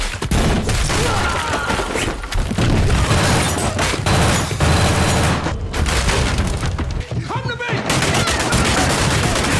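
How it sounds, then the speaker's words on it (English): Dense, continuous gunfire with rapid bursts and heavy booming shots, loud and close, filling the whole stretch with almost no pause. "Amidst hundreds of flying bullets, Walker intelligently targets each enemy who tries to get inside."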